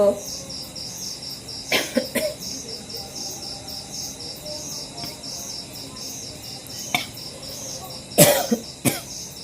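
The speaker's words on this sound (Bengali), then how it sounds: "কাশি আসলে একটু সমস্যা হয়" A few sharp coughs near the start and again toward the end, over a steady chirring of crickets in the background.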